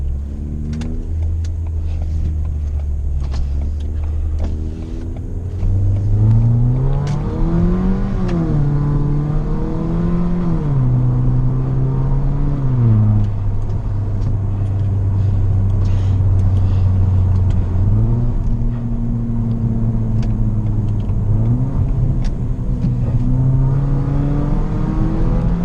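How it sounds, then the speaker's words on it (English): Ford Fiesta Titanium with its exhaust removed, engine revving loud and close with no talk, pitch climbing and falling through repeated throttle blips and held revs over a steady droning idle. "this car is an exhaust delete, so that's why it's so loud"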